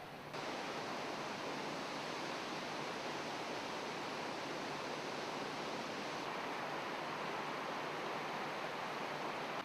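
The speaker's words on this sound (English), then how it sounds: "that there's the lip of the waterfall" Waterfall in a remote Kimberley river gorge, a constant broad roar of falling water that stays even and unbroken throughout, with no voices.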